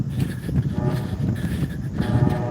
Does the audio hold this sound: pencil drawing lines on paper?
no